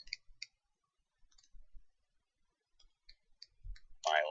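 Sparse, faint clicks of a computer mouse while assembling a brass tab and bumper to a body in CAD software, a few isolated taps spread out over quiet with a longer burst of noise at the end.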